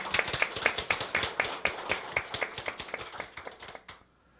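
A church congregation claps in thanks for two elders, a brisk run of many overlapping hand claps that thins out and stops abruptly after about four seconds.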